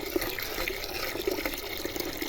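Water poured into a bucket outdoors in a garden setting makes a steady splashing fill with small drips and gurgles. It is fairly close and moderately quiet, with no talking.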